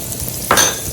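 Three garlic cloves hit a pan of caramelized onions with a sudden bright sizzle burst halfway through a brief moment of quiet background frying.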